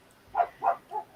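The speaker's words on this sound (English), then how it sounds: "Is that your dog barking?" Three quick, fairly faint barks from a dog out in a backyard, evenly spaced, with a softer fourth yip at the end.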